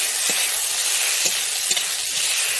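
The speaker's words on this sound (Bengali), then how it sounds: "আমি যে বেটে রাখা জিরা আর সর্ষেটা আমি দিয়ে দিচ্ছি দিয়ে আমি একটু ভালোভাবে নেড়ে নিচ্ছি" A cumin and mustard paste fries in a pan for a mushroom curry, a constant close sizzle broken by a few soft knocks from a stirring utensil, with no talking.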